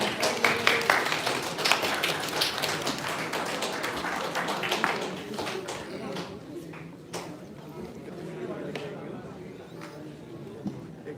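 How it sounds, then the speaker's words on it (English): An audience at an infectious disease conference in Kyrgyzstan claps for a presenter, a dense burst of applause that starts strong and gradually thins into scattered claps. "Please give her a big hands of applause."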